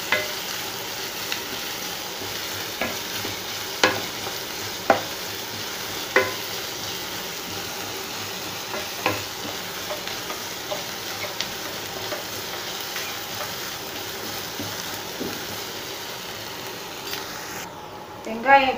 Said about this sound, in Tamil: சால்ட்டு கொஞ்சமாக சேர்த்து இந்த வெங்காயம் பொன்னிறமாக வேகிற வரைக்கும் நம்ம வெயிட் பண்ணலாம்.